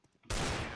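A sudden burst of gunfire in the video game CS:GO during a 1v1 match erupts after quiet, loud and dense, sustained through the end of the moment.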